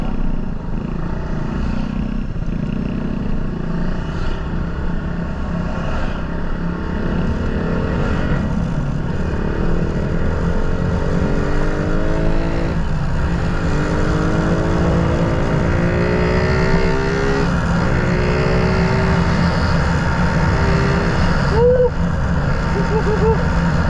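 Steady road traffic noise heard from a motorcycle ride between Anda, Bolinao and Alaminos, with constant engine drone and passing vehicles rising and falling in pitch, loud and continuous throughout.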